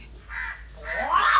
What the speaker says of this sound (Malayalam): ഇപ്പം പറയണത് ഈ കാക്ക